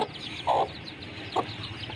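A hen with her newly hatched chicks makes two short, close clucks over a low background hum.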